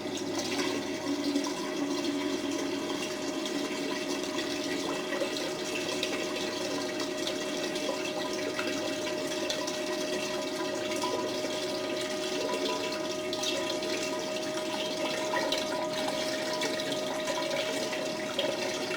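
Water swirling steadily in a blue bowl used for gold panning over coarse material, a continuous even wash of running water with no talk over it and no break.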